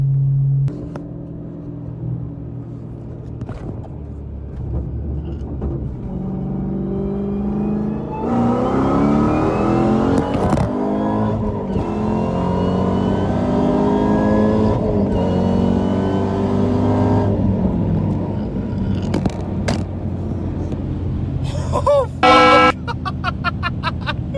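A 6-speed Dodge Hellcat making roughly 900-plus wheel horsepower on a street tune pulls at wide open throttle, its engine note climbing loud and close through the gears, with a brief horn-like toot near the end.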